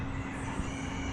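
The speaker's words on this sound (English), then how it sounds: "There are a lot of chickens, as you can hear." Chickens cluck and a rooster crows faintly in the distance at a Puerto Rico lodging, mixed into a steady broadband outdoor ambience.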